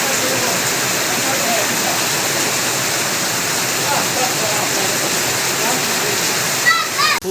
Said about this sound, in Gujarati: એકદમ ફૂલ વરસાદ આવી ગયો